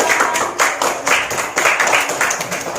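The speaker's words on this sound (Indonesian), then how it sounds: "Berikan tepuk tangan yang paling meriah untuk kelompok 2." A classroom of elementary school pupils claps for a presenting group, a lively burst of rapid, uneven hand claps from many children close by, rising and falling in waves.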